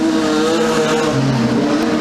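Production sedan race cars circling a track, their engines roaring loud and close in a continuous layered drone with shifting pitch as several cars run together.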